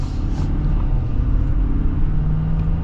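A Ford F-350 Super Duty Platinum dually pickup with a Power Stroke diesel pulls under partial throttle, a steady low rumble of engine and road noise heard from inside the cab, with no voices.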